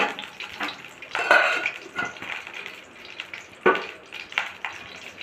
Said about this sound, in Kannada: ಈಗ ನಾವು ಇಲ್ಲಿ ಒಗ್ಗರಣೆಗೆ 2 ಚಮಚ ಎಣ್ಣೆನ ಹಾಕ್ತಾ ಇದ್ದೀವಿ